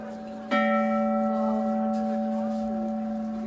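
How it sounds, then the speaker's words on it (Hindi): A metal bell, with a tone like a temple bell, struck once while out shopping, then ringing on with a long, steady shimmering hum that slowly fades, close and fairly loud. "ये तो बिल्कुल मंदिर के घंटे की जैसा बजा है।"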